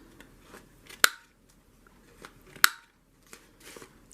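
Scissors cut the corners off a card, giving two sharp, crisp snips about a second and a half apart, with softer handling rustles between them, close up and quiet otherwise.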